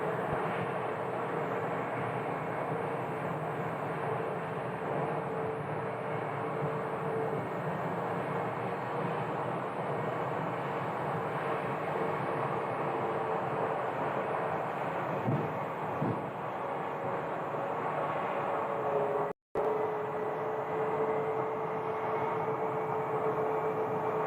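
An airliner landing on runway 26 at Phoenix Sky Harbor, a steady broad jet engine roar filling the whole stretch with a faint tonal whine, constant loudness and one brief dropout near the end.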